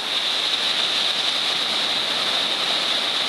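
Steady hiss of ocean surf at Boca de Iguana, an even, continuous wash of broken waves with no distinct crashes, fairly loud and unchanging.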